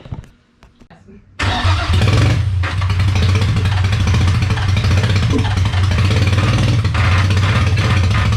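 A cheap $50 marketplace car engine starts after a short crank, then settles into a loud, steady running rumble close by.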